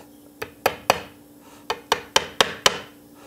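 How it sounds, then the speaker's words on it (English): Seven sharp, ringing hammer strikes land close by in two uneven groups while a part is driven in during Telecaster guitar assembly, each tap decaying quickly. "Then I will hammer in"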